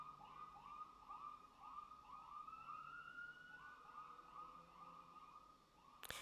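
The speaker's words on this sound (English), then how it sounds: "here comes the ambulance." Ambulance siren passing outside, heard faint and distant as a repeated rising and falling wail that keeps cycling for several seconds, with no talking.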